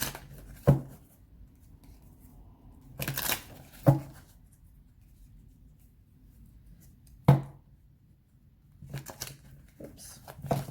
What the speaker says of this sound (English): we'll shuffle these and then we'll start.